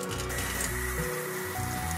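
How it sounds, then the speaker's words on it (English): Tap water runs from a faucet into a kitchen sink, a steady splashing rush with gurgling shifts as the flow hits the basin, heard alone. "I'm going to turn on the water"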